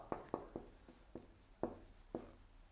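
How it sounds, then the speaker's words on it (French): Marker writing on a board, a sparse series of about seven quiet, close taps and short strokes at an uneven rhythm, with no talking. "Donc, j'écris pas très bien."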